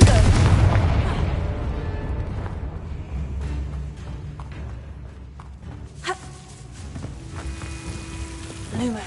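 Confringo spell in Hogwarts Legacy bursting with a heavy boom at the start, its rumble fading out, followed by a couple of sharper pops and smaller impacts amid quiet game ambience.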